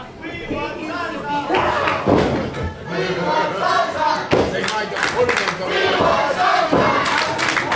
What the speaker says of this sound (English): the fans here at ECPW cheering on Merengue